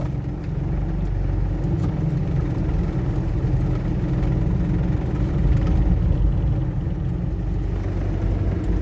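A car engine rumbles low and steady as the vehicle is driven in, a continuous mid-level drone with no breaks and no talk over it.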